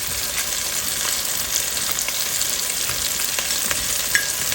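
Ugba, sliced oil bean for abacha African salad, sizzles and fries in a pan with a dense, constant crackle, broken now and then by soft scrapes of stirring, close and with no voices.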